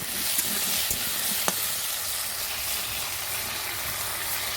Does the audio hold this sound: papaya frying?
yes